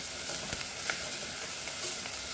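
Turmeric powder fries in a pan for Goan arroz pulao, a steady close hiss of oil with a few faint stirring clicks, no talk.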